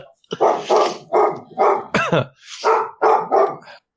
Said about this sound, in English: dog's not happy.